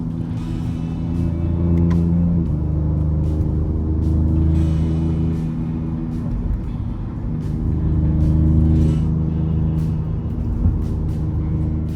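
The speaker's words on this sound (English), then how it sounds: "the Raptor makes up for all of that in the noises it makes. I mean, that 3-liter sings throughout the rev range" The 3-litre engine of a Ford Ranger Raptor pickup rumbles and revs, rising and falling in repeated swells, loud and close with a deep steady drone throughout.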